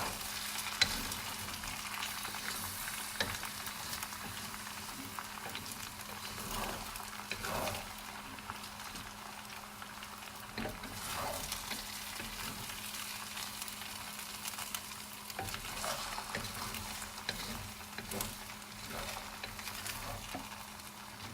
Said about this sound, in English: I'm going to put my shrimp, my 8 pieces of shrimp.